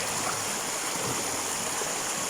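Steady, close rush of a waterfall feeding a flowing stream, a dense unbroken wash of water noise with no voices.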